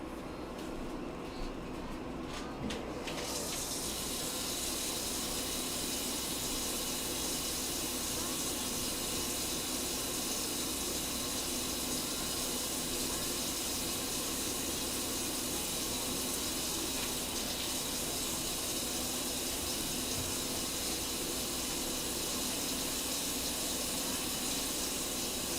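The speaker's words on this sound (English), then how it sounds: "Now we turn on the kettle to heat the water." An electric kettle heats water at an afternoon tea, giving a steady, broad rushing hiss that holds loud and unbroken throughout with no speech over it.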